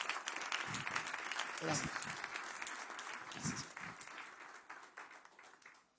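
Applause from a church congregation, steady and fairly close, fading toward the end while a voice speaks briefly over it.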